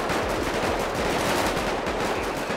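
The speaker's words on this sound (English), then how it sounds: "They're shooting a cop." Dense, continuous automatic gunfire in the video game GTA 5 as a police officer is shot, a loud unbroken rattle of overlapping shots with no pauses or voices.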